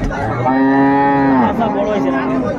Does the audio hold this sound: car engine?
no